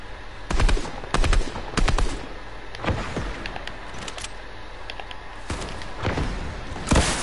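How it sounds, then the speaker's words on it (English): Repeated bursts of SCAR rifle fire in a video game, short rapid volleys spaced across the clip, loud and close, with a final burst near the end and no talking. "You're shooting me with a scar."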